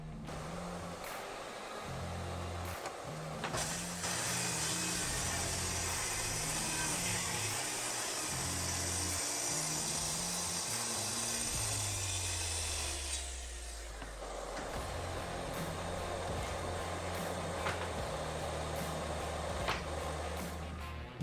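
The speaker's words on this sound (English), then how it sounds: "My first step is to cut the 7/8 inch square battens." A power saw cuts 7/8 inch square wooden battens from long boards in a workshop, with a loud sustained whine through the middle and a motor spinning down, then more machine noise.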